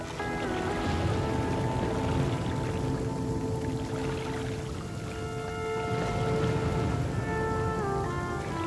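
Steady rain falls in the survival video game The Flame in the Flood, a constant even wash of drops with soft tonal game music layered over it throughout.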